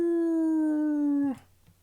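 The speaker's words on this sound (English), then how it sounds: "The beastly howl is beginning to give me a headache." A long, sustained beastly dog howl from the Tsukihime video game, one steady tone held loud and close for over a second before it cuts off, followed by faint low rumble.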